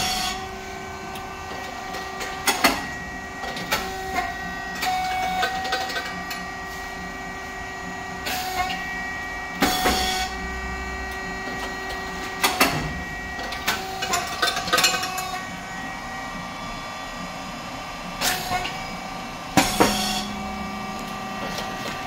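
A thin crispy type SYP4509 rice cake machine runs with a steady mechanical hum, loud sharp clacks and pops breaking through every couple of seconds at irregular intervals.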